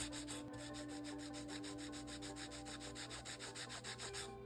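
Acrylic nails are filed with a nail file in quick, even back-and-forth strokes, a dry rasping scrape repeating in a steady rhythm, close and fairly quiet with no talking.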